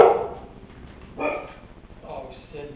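A pet dog barks in a home, a few short yips and barks spread across the moment, close by, with people talking to it around the sounds.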